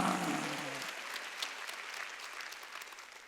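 Church congregation clapping during a Sunday worship service, starting fuller while a voice fades out early, then thinning into scattered, softer claps that taper off.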